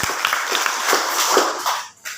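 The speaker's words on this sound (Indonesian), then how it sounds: "tepuk tangan dulu bagi Tuhan saudara" A church prayer meeting congregation claps for God, a dense burst of applause that fills about two seconds, then drops away briefly before a final few claps.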